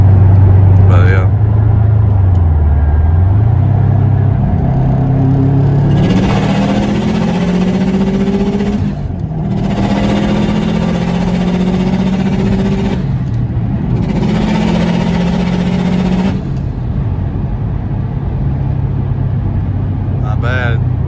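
Engine of a Subaru STI tuned to over 300 wheel horsepower, heard from inside while driving, rising and falling through gears in sustained loud surges with road noise throughout.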